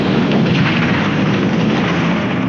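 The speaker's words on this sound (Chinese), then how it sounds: "手中的打火机引燃汽油，在爆炸之前离开了加油站" A gas station explodes in a zombie film, a loud, sustained roaring blast with dense rumble that fills the whole stretch without letting up.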